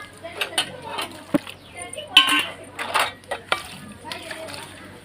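A brass vessel being washed by hand, giving soft metallic clinks and scrubbing knocks in irregular bursts, with a voice talking over them.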